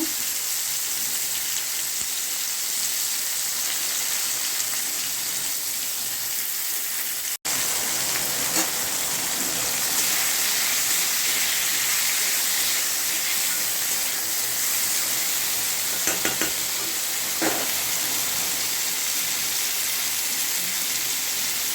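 Vegetables for shukto fry in a pan with a soft, continuous crackling hiss, fairly faint and even throughout, broken once by a sharp click partway through; no one speaks.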